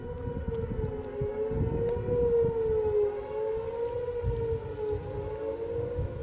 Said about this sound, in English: Oh, you can hear the tornado sirens.